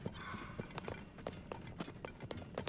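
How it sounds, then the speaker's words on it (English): Horse hooves clip-clopping in Zelda: Tears of the Kingdom, a steady run of quiet, crisp hoofbeats near the listener, with faint game ambience beneath. "Some horses."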